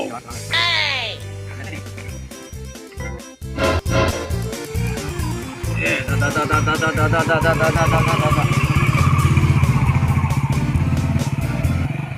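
A motorcycle engine revs and runs close by, rising into a steady, loud drone that keeps going to the end, while people talk and shout over it and clattering sounds mark the start.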